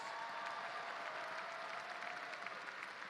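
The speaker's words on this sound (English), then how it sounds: "Let's give a big hand of applause." Audience applause at a university commencement ceremony, a steady wash of many hands clapping at moderate volume, slightly distant, with a faint voice tone running underneath.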